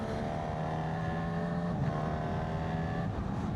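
A Honda CB1000GT motorcycle with a Fireblade-derived engine, based on a 2014 unit, growls steadily at close range, a continuous throaty hum with a slight shift in tone partway through.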